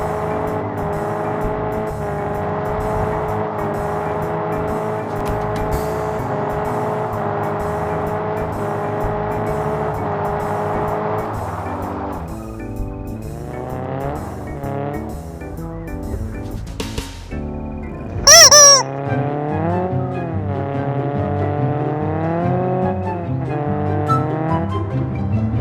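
A car driven in the video game Car Parking Multiplayer, with a steady engine hum that gives way to rising and falling revs as gears shift, plus a brief sharp tire squeal partway through.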